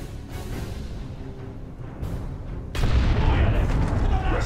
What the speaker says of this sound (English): Launch a grenade.